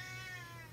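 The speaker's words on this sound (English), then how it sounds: "that's not a baby. That's my cat." A pet cat named Sid meows once, a short close tonal cry carried over a steady low hum in an indoor room.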